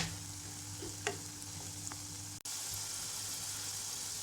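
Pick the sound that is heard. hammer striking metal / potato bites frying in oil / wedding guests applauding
potato bites frying in oil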